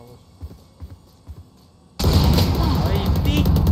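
Valorant gunfire bursts in suddenly after a stretch of quiet, scattered low thumps, a dense loud volley of shots and booms from the game that keeps going to the end, with players talking faintly underneath.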